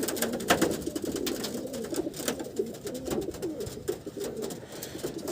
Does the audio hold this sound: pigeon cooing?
yes